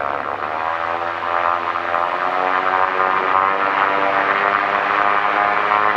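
An M-Squared Breese 2 ultralight aircraft's engine drones loud and close during its takeoff run, a steady buzzing roar with a faint rise in pitch and no voices.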